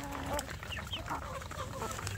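Free-range village chickens cluck steadily and close by while being fed, with several birds overlapping in a busy, continuous chatter over faint outdoor background noise.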